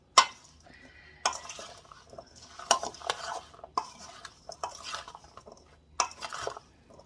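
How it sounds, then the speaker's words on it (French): Potatoes being fried are stirred in a pan, a utensil scraping and clattering against the metal in irregular bursts with a faint sizzle underneath, close and clear with no talking. "Et je vais mélanger tout simplement."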